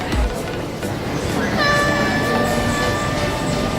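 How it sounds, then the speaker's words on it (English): A train in Hong Kong rumbles along with a faint clatter, and a bright whining tone rises and holds partway through while people talk nearby. "We're going on the train."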